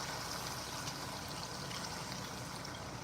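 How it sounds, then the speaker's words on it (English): Water poured into a cooking pot, a soft continuous splashing trickle that runs steady and fairly quiet throughout, with no talking over it. "Now we are adding water."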